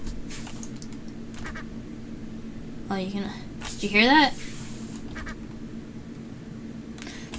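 A duck quacks inside a video game, sounding a few times in quick succession over steady game background noise, with a person talking around it.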